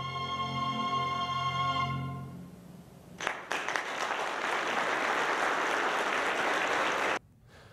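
Applause for a high school string ensemble: after a few seconds of sustained string tones, a dense burst of clapping starts, stays loud and steady for about four seconds, then cuts off abruptly.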